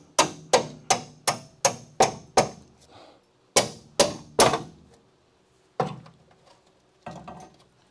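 Hammer blows drive a chisel through car spot welds on a crew cab Charger body during restoration, a quick run of seven sharp metallic strikes, a pause, three more, then two scattered lighter knocks, loud and close with no talk.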